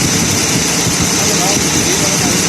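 A car engine running with a misfire shakes and vibrates as a spark lead is grounded on the negative terminal, a loud continuous rough drone up close.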